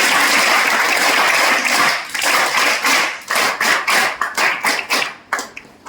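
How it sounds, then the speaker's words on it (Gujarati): Applause from an audience at a farewell ceremony for a retiring staff member, starting as a dense wash of clapping and then thinning into separate loud claps before fading out. "જોરદાર તાળીઓ થઈ જશે."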